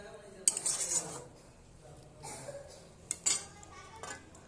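A utensil stirs ginger garlic paste into a ripe mango curry in a pan, giving a few sharp metallic clinks and scrapes separated by quieter stretches, close and moderately soft.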